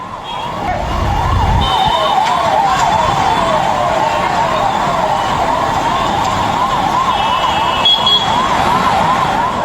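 An ambulance siren wails loudly nearby as the vehicle departs for Medanta hospital, a rapidly repeating warbling tone held throughout over dense street and engine noise.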